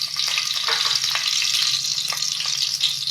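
Bay leaf and green cardamom sizzling in hot oil, a loud continuous crackling fry with small pops throughout, close up and without talk.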